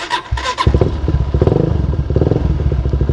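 An older carbureted Honda CBR 150R motorcycle inside a residential complex. A few clunks and a start-up burst lead into a close, rhythmic, pulsing engine beat that stays loud and even.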